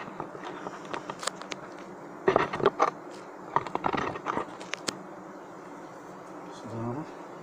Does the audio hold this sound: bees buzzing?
yes